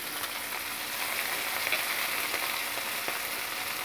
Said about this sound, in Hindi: हरी मिर्च डाल दूंगी